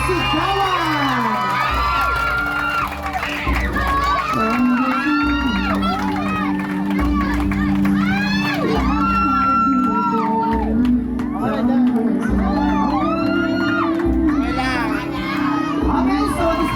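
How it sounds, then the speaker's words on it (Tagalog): Lively crowd shouting and cheering for an engaged couple, a continuous noisy mix of voices and whoops with children's shouts rising throughout. "A big hand for Jamaica and Joel. Palakpak naman dyan na may kasamang sigawan."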